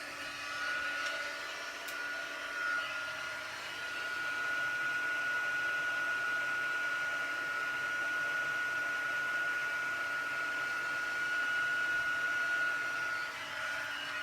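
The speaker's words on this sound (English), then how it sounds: "I'm just going to bring my heat gun in." A steady, loud blowing whoosh of a heat gun used for heat embossing on card-making, running continuously with a faint high whine, close by and uninterrupted for the whole stretch.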